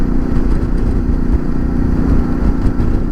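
Motorcycles and scooters pass along a hot South American road, a loud, steady close engine drone with rumbling clatter and no talking.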